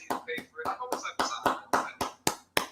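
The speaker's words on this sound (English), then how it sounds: "let's give him a round of applause" Slow, sarcastic hand clapping from a single person, about ten sharp claps at a steady rhythm, close and fairly quiet.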